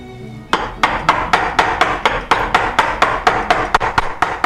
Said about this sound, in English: I'm chopping out the cove.